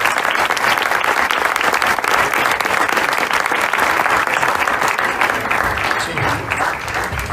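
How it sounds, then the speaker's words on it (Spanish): Loud, sustained applause from a seated audience at a film discussion event, dense and close clapping that stays strong for several seconds before easing slightly toward the end. "Un fuerte aplauso para Carolina."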